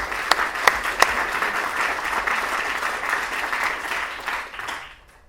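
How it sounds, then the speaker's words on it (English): A breakfast audience at an industry awards event claps steadily for several seconds, a few sharp near claps standing out at the start, before the applause fades out to silence. "I think you all deserve to give yourselves a little round of applause for doing everything that you do"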